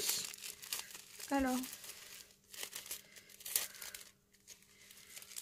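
Plastic packaging around a fine checked ribbon roll crinkles and tears in short, close bursts, while someone speaks quietly in French between the rustles.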